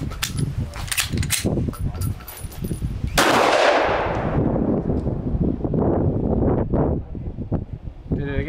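A Glock pistol being fired outdoors on a windy range, with several sharp close reports in quick succession and a burst of wind noise midway, while a person talks faintly underneath.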